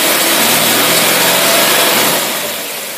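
A loud, close outboard marine engine runs rough with a harsh, buzzing roar from a carburetor that won't pump properly, then eases slightly in volume near the end.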